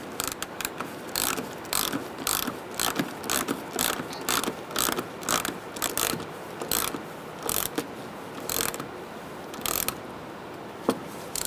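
A ratchet tightening an AC condenser bolt on a 2010-2013 Kia Soul 2.0L. Close, steady bursts of clicking pawl strokes repeat in a regular back-and-forth rhythm about a dozen times, without speech.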